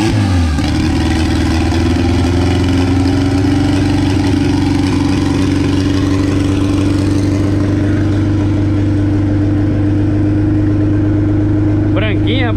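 A turbocharged Volkswagen Gol engine runs at a steady idle throughout, a low constant hum with people talking faintly over it.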